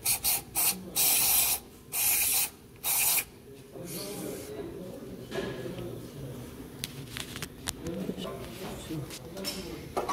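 An aerosol can sprayed into a part of a ZAZ-968M car in several short, loud, close bursts, followed by quieter rubbing and handling noises while people talk.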